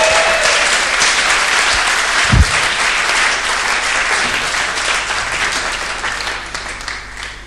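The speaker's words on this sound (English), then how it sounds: "So would you please give a nice big warm clap to Siadwell, the poet" A theatre audience gives the poet Siadwell a warm round of applause, a loud sustained wash of clapping that holds steady and tapers slightly toward the end.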